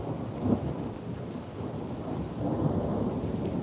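A thunderstorm rolls on with a continuous low rumble of thunder beneath steady rain, swelling slightly near the end, with no voices.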